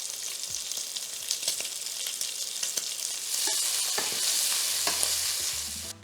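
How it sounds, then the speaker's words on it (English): Guanciale crackles and sizzles steadily in a hot pan while being stirred, with scraping clicks from the stirring over a constant frying hiss that grows slightly louder midway. "Give your guanciale a little stir so that every side touches the heat."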